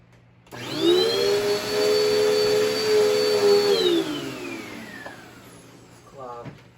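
A Dirt Devil Dynamite Plus vacuum cleaner, clogged, switches on with a loud, steady whine, holds for several seconds, then winds down in a falling tone while a person talks near the end.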